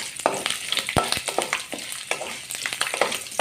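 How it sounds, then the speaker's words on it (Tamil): Garlic frying in a hot pan for a tamarind pickle (puli thokku), a steady crackling sizzle with frequent sharp pops and stirring knocks throughout, close and fairly loud with no talking. "அந்த பூண்டையும் போட்டுக்கலாம். போட்டு நல்லா வறுத்து எடுத்துக்கலாம்"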